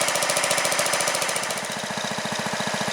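A gas-powered log splitter engine idles steadily while warming up, its close, loud, rapid knocking putter pulsing evenly throughout with no talk.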